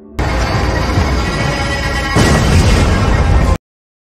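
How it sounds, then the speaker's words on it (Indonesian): A plane crashes and explodes in a film scene, heard as a loud, sustained roaring blast that swells midway into a second, heavier burst before cutting off abruptly. "Segera perhatian mereka teralihkan dengan pesawat yang hilang arah hingga akhirnya jatuh dan meledak."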